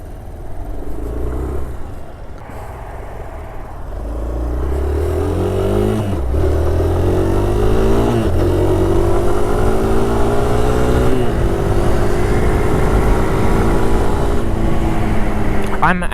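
2018 Suzuki Van Van 200cc motorcycle riding off, the single-cylinder engine rising through several gear shifts with rev climbs and drops, loud and close, settling into a steady drone.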